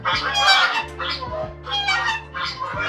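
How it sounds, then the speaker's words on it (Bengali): Chickens at a market poultry farm in Kohima, Nagaland cluck in repeated bursts, with soft rooster-like calls mixed in, near and fairly loud over a steady low market hum. "এদিকে মুরগির ফার্ম"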